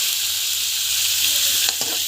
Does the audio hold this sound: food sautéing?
yes